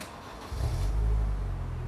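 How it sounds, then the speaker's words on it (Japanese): A car engine turns over and catches after a short whir, settling into a low, quiet hum close by. "エンジン回してください"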